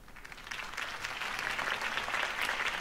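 Crowd applause from the Batman: The Telltale Series video game follows Harvey Dent's campaign speech, a steady wash of clapping that swells slightly and stays moderately distant, no voices.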